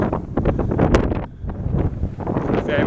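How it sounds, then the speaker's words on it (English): Gusty wind buffets the microphone in open country at Monument, Colorado, a rough, loud rumble that rises and falls without pause through the clip. "it's a little bit windy out here today"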